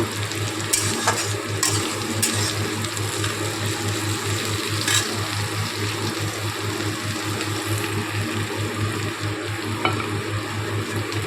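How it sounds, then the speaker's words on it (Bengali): Vegetables and dalia frying in a pan, a continuous close sizzle with a low steady hum underneath and occasional sharp scrapes and clicks of stirring. "সবজিগুলো ভাজা বসিয়ে দিয়েছি এখন এটার মধ্যে আমি ডালিয়াটা ছেড়ে দেব"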